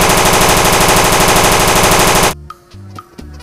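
A toy M16 rifle fires a loud, rapid, rattling burst of machine-gun sound effects, then cuts to sparse electronic beeps and tones.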